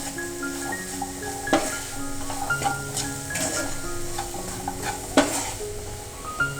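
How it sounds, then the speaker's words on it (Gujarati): Red chilli powder, coriander-cumin powder and vegetables for masala Maggi stirred in a kadai, a soft sizzle under repeated spoon scrapes and clinks against the pan, close, with a faint steady hum behind, no talking. "આ બધા જ મસાલાને સરસ રીતે મિક્સ કરી દઈશું"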